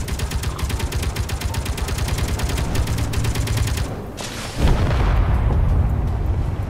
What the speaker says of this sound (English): Is that a go-kart with a gun?